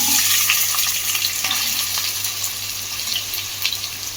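Onions and green chillies fry steadily in hot oil in a pan on high heat, a continuous close sizzle with occasional stirring scrapes and no talking.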